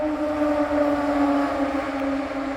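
A motorcycle with empty straight-through mufflers rides past on a narrow road on the Hel Peninsula, its loud, steady engine drone holding throughout without letting up and with no talk over it.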